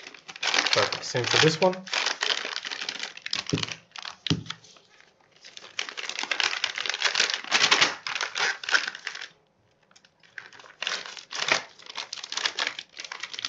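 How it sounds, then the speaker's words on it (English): White sealing tape is peeled and pressed shut on a plastic bag during a doping control sample process, with loud repeated plastic crinkling and rustling close up while a person talks. "you can pull this white tape and then stick it together so it closes the plastic bag"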